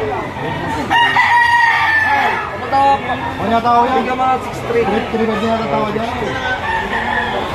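Roosters crow repeatedly, loud and close, over a busy crowd at a chicken auction with people talking throughout.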